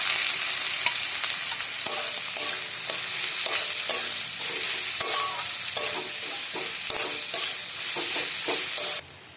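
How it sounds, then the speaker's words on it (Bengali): Chopped onions fry in hot oil in a pan with a loud, steady sizzle, while a spatula scrapes and stirs them in irregular strokes throughout. "পেঁয়াজটা হালকা ভাজা হয়ে গেছে"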